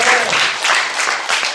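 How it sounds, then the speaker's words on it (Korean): Thunderous applause from a lecture audience during a talk on the Holy Spirit, loud close clapping in a few swelling waves over a short span, with no voices over it. "박수 한번 쳐주세요. 우레아 같은 박수."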